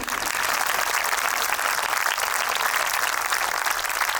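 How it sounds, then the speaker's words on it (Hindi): An audience at an indoor talk applauds in a dense, sustained burst of clapping that stays loud and even throughout, with no voices over it. "आपकी तालियां बंद क्यों हो गई?"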